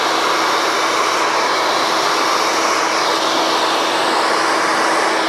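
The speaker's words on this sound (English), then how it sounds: "So that's how I'm gonna be blow drying it as well." A hair dryer blowing hair during styling with a vent brush runs as a steady, loud, close whoosh of air at an even pitch from start to finish, with no talking.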